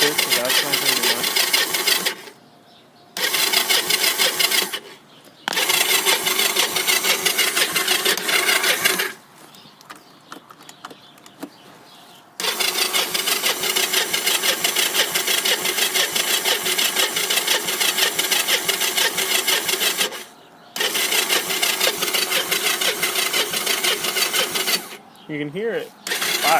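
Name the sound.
cold engine cranking and firing on a three-wheeler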